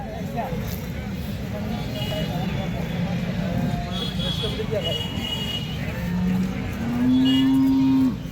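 Cattle at a bull market low and moo near and far over a busy crowd, with a long, loud moo near the end and people talking throughout.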